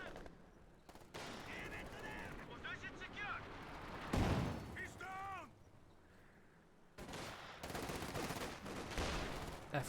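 FG-42 rifles firing in Company of Heroes 2, heard as scattered bursts and rattling volleys of battlefield gunfire at mid distance, with a voice talking over parts of the fighting.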